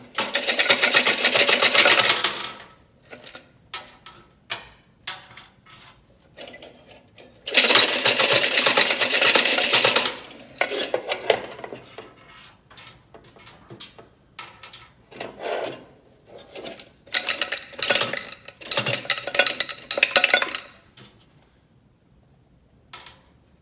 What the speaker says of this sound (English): shake it around, and then we'll take and get your little pieces out